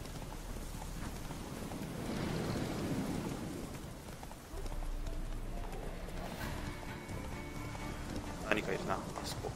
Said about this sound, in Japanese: しかしよく雨の降る地域だな。